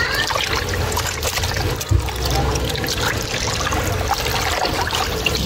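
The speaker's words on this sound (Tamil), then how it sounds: "மட்டன் அலசுறீங்களா?" Water sloshes and splashes steadily as large mutton pieces are rinsed by hand, with a brief louder splash midway and a continuous watery swirl throughout.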